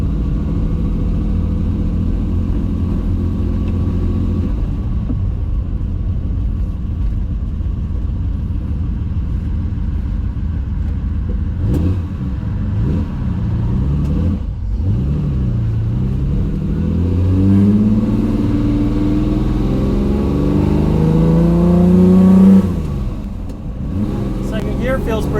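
A Ferrari 330 GTC engine idles with a deep, steady rumble close by, then revs up and swells in the second half before dropping back. Someone talks over the engine throughout.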